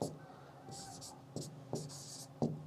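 Chalk or marker writing on a board, a series of short scratchy strokes with small taps between them, close and fairly clear with no voice over it.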